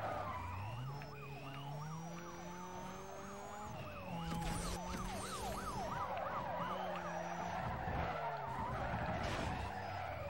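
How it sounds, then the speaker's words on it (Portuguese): Tires screech in a long skid as a car loses control during a police chase in the video game Need for Speed Most Wanted, with wailing sirens and engine roar underneath. "Perdi o controle do carro"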